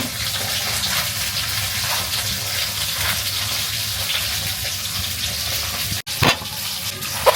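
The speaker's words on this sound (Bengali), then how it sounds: "মাছটাও ভাজা হইতেছে পাশাপাশি।" Fish frying in a pan at home, a steady loud sizzle and bubbling of hot oil running throughout, with a brief pause and a clatter near the end.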